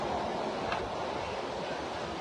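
Multnomah Falls, a tall waterfall in Oregon, roars as a steady, dense wash of falling water with no breaks and no voices.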